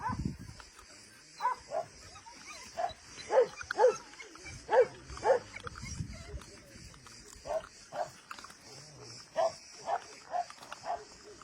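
Seven new puppies at a shelter eat their first meal, giving off scattered short whimpers and yelps in an irregular rhythm, faint and nearby over quiet background.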